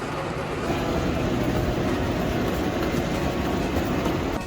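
A train in Germany rumbles steadily along the rails, a dense continuous roar with faint rhythmic clatter from the wheels, close and loud throughout, heard from on board.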